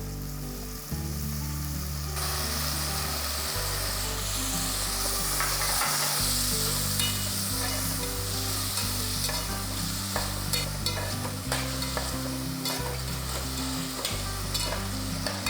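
Three chopped tomatoes sizzling in hot oil for egg gravy, a continuous close frying hiss with frequent scraping of a spoon against the pan, no talk.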